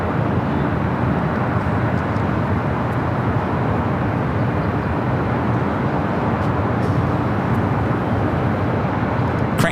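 A Boeing 777-300ER airliner taxiing at LAX makes a steady, dense broadband rumble and roar that holds even throughout, with no voices over it.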